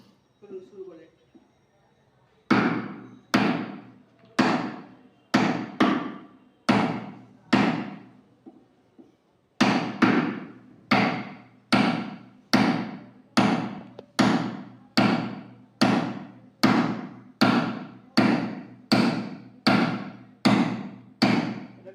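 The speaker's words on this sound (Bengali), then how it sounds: "1 সুতা রেখে দিয়ে বাটালি করে চালাবো" Chisel struck with a hammer to cut a hinge recess in wood, over twenty sharp, close knocks at a steady rhythm about one per second, after a brief quiet start.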